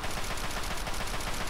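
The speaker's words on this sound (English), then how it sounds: "Oh no, he's got a big gun." Enemy gunfire in the video game Fallout 3, a dense continuous burst of rapid shots that fills the short stretch at steady loudness with no pauses.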